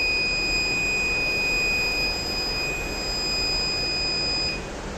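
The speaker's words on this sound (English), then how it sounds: "so you will be getting the buzzer alarm" A wire loop break detector sounds its buzzer alarm after an open loop in the wiring is detected, a steady, continuous electronic tone with high pitched overtones that holds loud and unbroken for the whole span.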